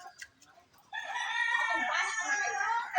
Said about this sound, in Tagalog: Alaga na manok.